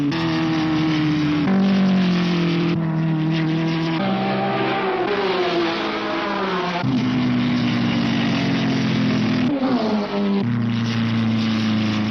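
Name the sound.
racing cars revving at motor race circuit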